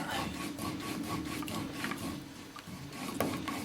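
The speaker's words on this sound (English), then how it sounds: "And hold your fall and rub that up and down like that." A leather whip fall, wrapped with hide lace and dressed with leather dressing, is rubbed briskly up and down by hand, giving a steady close scraping friction with regular back-and-forth strokes throughout.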